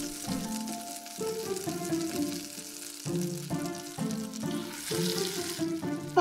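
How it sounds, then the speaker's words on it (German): Food sizzling on a grill, with a crackling frying hiss running under a melodic background tune played in steady phrases. "Alles brutzelt schön vor sich hin."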